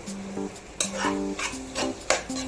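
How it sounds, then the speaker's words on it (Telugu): Quiet frying of coriander and mint leaves with spices and soya chunks in a pan, repeated scraping and stirring strokes, spatula knocks against metal, and a soft sizzle underneath. "దాంట్లో కొత్తిమీర పుదీనా ఇవి రెండు వేసి ఫ్రై చేయాలి"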